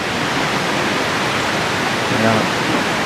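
Broadband rushing water of the Tad Kwang Chi waterfall, a steady roar filling the whole clip at even loudness, with a faint voice briefly present near the end.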